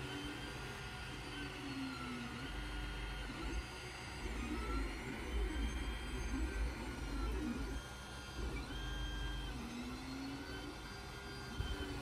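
An Ender 3 Pro 3D printer prints a bed-leveling skirt, its stepper motors whirring and whining in shifting tones over a steady fan hum, quiet and continuous.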